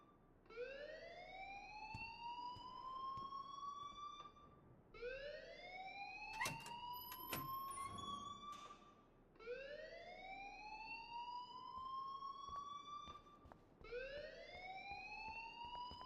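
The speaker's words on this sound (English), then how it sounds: "please turn off that alarm since that's your job" Fire alarm inside a school in Life Is Strange Remastered on Xbox Series X, a loud repeating rising electronic whoop sounding about four times, with brief clanks between cycles and no speech.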